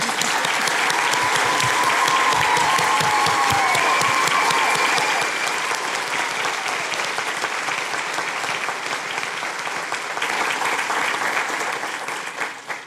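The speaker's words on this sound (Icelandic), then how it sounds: "Og þá megum við klappa." A large audience at a 2015 University of Akureyri graduation ceremony claps in steady, dense applause that holds strong for several seconds and then gradually thins out.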